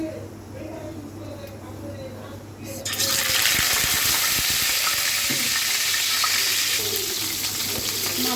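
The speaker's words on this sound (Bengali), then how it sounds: "এখন হচ্ছে মাছটা ভেজে নেব হালকা করে।" Fish frying lightly in a pan, a steady broadband sizzle that jumps louder about three seconds in and holds close and continuous, with a low hum beneath and no talk.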